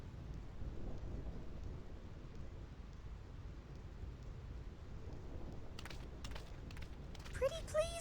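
A rumbling thunderstorm in the Final Fantasy X video game plays as steady low thunder and rain noise, faint and continuous, with a few crackling bursts near the end.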